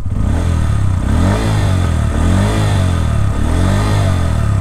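A Bajaj Pulsar N160 motorcycle engine idles close up, a loud, steady, throbbing beat with a slight rise and fall in revs every second or so, alone with no talking.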